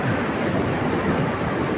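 Sea waves break on Nai Thon beach in Phuket while strong wind gusts across the microphone, making a loud, continuous roaring wash with no talking.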